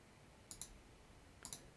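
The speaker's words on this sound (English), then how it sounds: "click on the drop down" Two quick double mouse clicks in Microsoft Word, faint and close against a quiet background.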